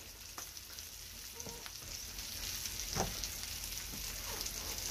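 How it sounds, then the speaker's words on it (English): A steady, fairly loud frying sizzle of steak in a pan for Cajun surf and turf, continuous crackle and hiss with a few louder pops, with no talking over it. "the sound of sizzling steak."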